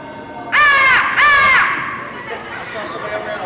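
A hand-blown crow call imitating crows, giving two loud, drawn-out caws in quick succession, followed by fainter, distant calls against an outdoor background.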